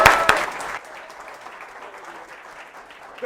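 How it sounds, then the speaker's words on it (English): A comedy club audience claps loudly for a brief moment, then the applause drops quickly to a thin, scattered patter that lingers quietly. "Give Phil a round of applause."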